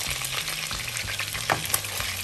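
Broccoli and fish vegetable curry frying in a pan, with mackerel among the ingredients, heard as a short, steady, close sizzle with light stirring scrapes and no voices.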